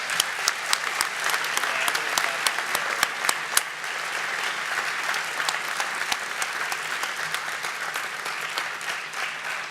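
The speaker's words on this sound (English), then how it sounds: "Let's give them all a round of applause." Sustained applause from a crowd at a senior athletic awards ceremony, with dense clapping and a few sharp claps that stays steady for nearly ten seconds, then eases slightly toward the end.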